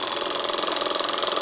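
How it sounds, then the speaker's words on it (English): A refurbished Davies Charlton hot air engine mounted on a base over a ceramic burner runs steadily, giving a fast, even mechanical chugging hum at close range. "Hot air engine, completely refurbished, fitted to a base with a ceramic burner."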